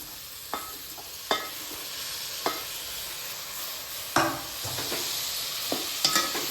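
Pavta (field bean) rice ingredients sautéed with salt in a pan, a steady soft sizzle punctuated by several sharp clinks and scrapes of a stirring spoon, close by, with no talking.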